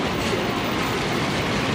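Inside a train carriage in Japan, a steady loud rumble of the moving train fills the space, a dense continuous roar with faint rhythmic rattling and no voices.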